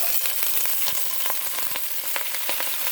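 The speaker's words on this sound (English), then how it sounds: "we're going to put in our beautiful collard greens and let them saute" Collard greens sautéing in a hot pan, a constant close bright sizzle with small crackles and occasional stirring taps, no voices.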